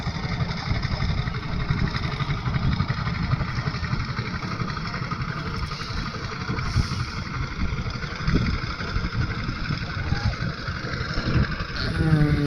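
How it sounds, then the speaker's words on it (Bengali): A motorboat engine drones steadily on a village river, a continuous rumbling hum that holds even and fairly close for the whole stretch. "বাজারের দিকে যাচ্ছে নৌকা।"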